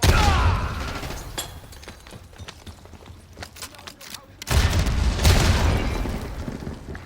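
A frag grenade goes off in Black Ops 6 with a heavy opening boom, then scattered sharp pops and gunfire bursts, and a second loud blast about halfway through. A voice is heard briefly among the combat noise.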